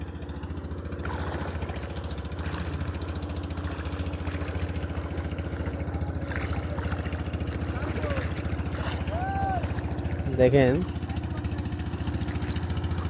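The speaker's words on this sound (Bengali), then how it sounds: "ছোট্ট নৌকা বোঝাই পেয়ারা অথবা পেঁপে নিয়ে আসছে মাঠ থেকে" A small wooden boat loaded with guavas or papayas, coming in from the fields across flooded water, passes with a steady low engine drone that runs throughout under nearby talking, with a brief louder burst near the end.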